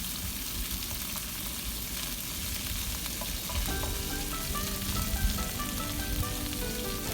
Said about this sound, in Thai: หมูสามชั้นของเราจะได้กรอบกรอบ